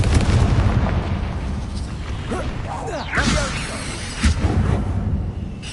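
A Confringo fire-curse explosion in the Hogwarts Legacy video game, inside a tomb: deep booming blasts and rumbling with swooshing effects, a couple of louder bursts standing out against constant low combat noise.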